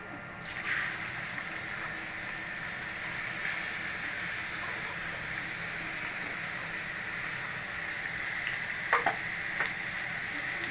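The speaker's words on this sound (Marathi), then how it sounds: "कांदा हा टाकलेला आहे फोडणीला" Chopped onion sizzles and crackles steadily in hot oil, a constant close frying hiss with a few sharper pops near the end.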